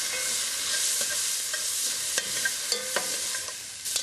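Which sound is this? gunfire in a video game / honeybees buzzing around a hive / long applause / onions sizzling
onions sizzling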